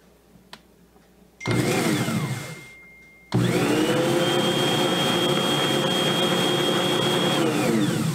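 An electric mixer fitted with cookie paddles creams two sticks of butter and sugar for fruitcake. It whirs loudly in a short burst, winds down, then starts again and runs steadily and close. No voices.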